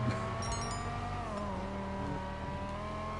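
A car in GTA Online fitted with bulletproof tires drives along with a steady engine drone, fairly quiet and continuous, no talking over it.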